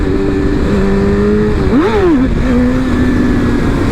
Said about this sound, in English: Bad first wheelie.